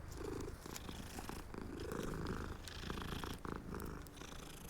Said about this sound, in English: Always gotta pet the kitty.